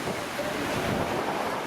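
Caribbean Sea waves wash onto a white-sand shore at Tulum, Mexico, site of an ancient Maya port, a steady broadband surf roar mixed with wind noise and no voices.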